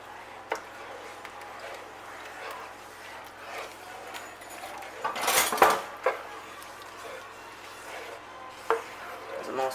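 Whisked egg stirred into chicken carbonara in a pan, soft scraping and clinks of a utensil against cookware with a louder clatter midway, close and fairly quiet, no talking.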